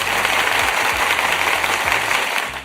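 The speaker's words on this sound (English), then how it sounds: "Let me applaud you a little bit more," Steady burst of clapping, like a short applause sound effect, runs evenly under a low tonal hum and fades at the end.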